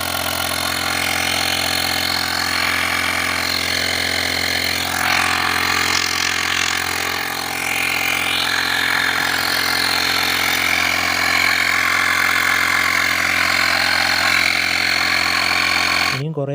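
A Flipkart digital tyre inflator runs steadily with a constant buzzing motor hum and a mechanical whine, loud and unbroken for the whole stretch, cutting off abruptly at the end while someone talks over it.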